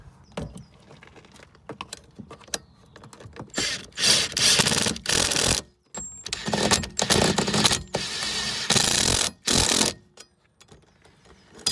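Spanner and socket tightening nuts on mud flaps of a 2018 Ford Fiesta Mk 8, heard as irregular close clicks, scrapes and rubbing bursts of metal work.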